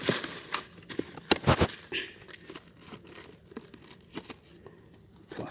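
Plastic bags crinkle and tear in sharp, irregular bursts as they are handled close by, pulled from an abandoned suitcase found at a garbage tip, with no one talking.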